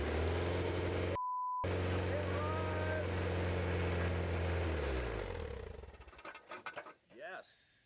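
An Acura Integra engine is cranked and then runs, a loud rough steady rumble with a brief dropout early on. It fades out near the end, where a voice speaks.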